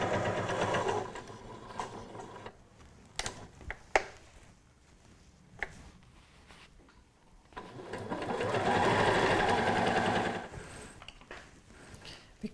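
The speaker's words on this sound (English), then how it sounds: "I can use the edge of the presser foot as my guide and stitch really close to that edge" Sewing machine stitching a table runner, running in a steady whirring burst at the start and again in a longer run later, with quieter handling clicks between.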